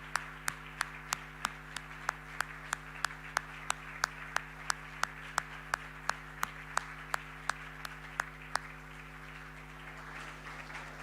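Sharp, regular claps ring out at a gala dinner, evenly spaced single hits over a steady low hum, sounding more like one or a few people clapping than a full audience.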